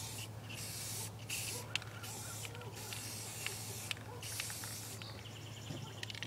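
Aerosol waterproof coating sprayed onto the underside of a Kawasaki KX250 dirt bike: close hissing bursts separated by brief pauses, over a steady low hum.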